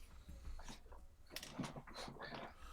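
A dog named Zeus whimpers faintly in a few short, high whines, heard under ongoing conversation and background noise.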